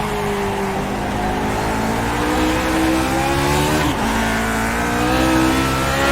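A Lotus 49 race car at Okayama in iRacing, its engine droning and climbing steadily in pitch through second gear, a brief dip near the middle before it keeps building, loud and close throughout.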